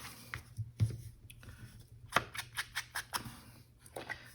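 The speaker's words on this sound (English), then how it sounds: "I think I am going to trim this down. Just gonna eyeball it and trim it." Scissors trimming paper for a vintage-flower prayer-tag junk journal: a close, quiet series of crisp snips and paper crunches, irregular at first and then coming in quick, rhythmic cuts, with no talking.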